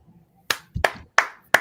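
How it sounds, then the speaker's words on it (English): Four sharp, close hand claps ring out in quick succession to welcome a guest onto a sports talk show, with nothing else heard. "Clap it up."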